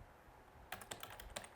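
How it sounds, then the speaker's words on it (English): Someone types on a computer keyboard in a quiet room, a short burst of soft, close key clicks after a brief pause, with no voices. "So I will type in"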